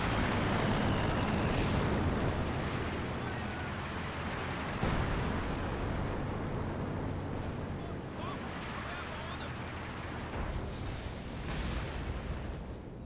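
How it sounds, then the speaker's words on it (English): A Katyusha rocket barrage in Company of Heroes 2 rumbles and booms steadily, with repeated blasts and bursts under continuous battlefield noise and a commentator's voice. "Oh, and got some Katusha Barrage here."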